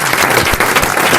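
Studio audience of a French radio comedy show applauding, a loud, dense burst of clapping heard briefly and alone.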